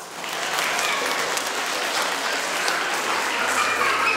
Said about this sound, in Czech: Tak potlesk pro dědečka.